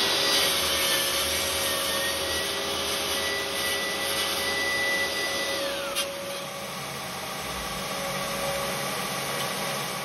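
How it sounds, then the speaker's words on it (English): Shop vacuum steadily sucking up sawdust in a woodworking shop, a loud continuous drone with a whining tone and a brief clunk midway, no voices. "Finally, I vacuum up all the sawdust."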